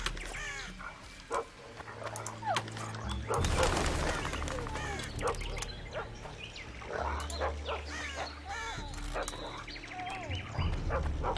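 A dog whimpers and yips in The Witcher 2 amid busy game combat sounds, with clashing effects and background music running continuously throughout.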